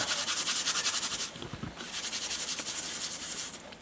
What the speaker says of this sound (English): just break the edges there with a little bit of Scotch-Brite